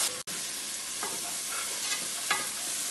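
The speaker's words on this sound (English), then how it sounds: "I'm going to saute the garlic and the tomato and the onions" Garlic, tomato and onions sauté in oil in a big pot, sizzling in a steady close hiss while being stirred now and then.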